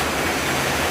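Heavy monsoon rain drums on metal roof sheets during a morning downpour, a loud, dense, continuous hiss filling the whole brief moment with no voices.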